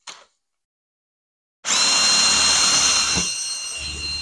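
A power drill drives a screw into a metal drywall ceiling rail: a short blip, a second and a half of silence, then a loud, close, steady high whine of about two and a half seconds that tails off.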